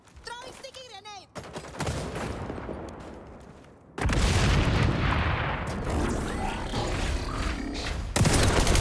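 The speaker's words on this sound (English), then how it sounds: "Throwing sticky grenade." Gunfire and blasts fill an XDefiant match, with a heavy explosion from a sticky grenade landing around the four-second mark, loud and broad, amid continuing shots and clatter, with brief voice sounds early on.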